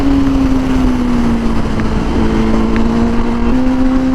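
A Honda Fireblade 1000RR-R SP sport bike runs at steady high revs under a rider, a loud continuous engine whine that holds pitch with slight shifts, close-miked with wind rush and no talking.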